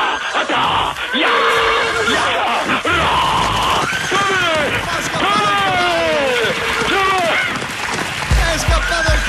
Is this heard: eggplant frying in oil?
no